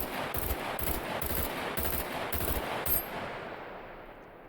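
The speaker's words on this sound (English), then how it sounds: "And that right there is the weapon jam." Automatic gunfire in the video game SCUM, a rapid burst of loud, evenly spaced shots for about three seconds that stops abruptly as the weapon jams, leaving a fading tail with no further shots.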